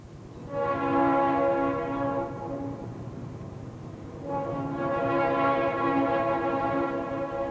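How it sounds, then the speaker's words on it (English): A freight train rolls through the small river town of Valmeyer, its horn sounding in two long, loud blasts over a steady rumble of wheels on the rails. "The freight trains still roll through Valmeyer"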